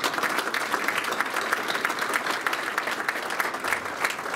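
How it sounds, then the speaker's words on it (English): A crowd applauds at a university hall of fame induction ceremony, brisk continuous clapping from many people with individual sharp claps standing out, no talking. "We should give her a round of applause."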